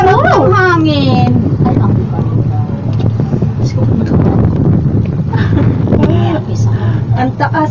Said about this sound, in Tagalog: Ang lalong ay, ang sarap ng hangin!